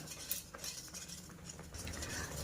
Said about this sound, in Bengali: এবারে একটু হাতা দিয়ে নেড়ে নেব।